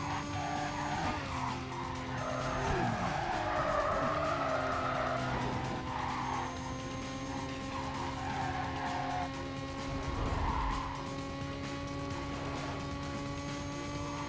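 Cars street race in Need for Speed Carbon, engines droning steadily with repeated tire squeals and skids as the cars drift through corners, loud and continuous.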